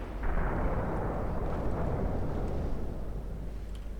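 Heavy naval artillery fire in the warship game Ultimate Admiral Dreadnoughts, a booming roll of gunfire that swells quickly and rumbles on continuously at moderate loudness, with no voice over it.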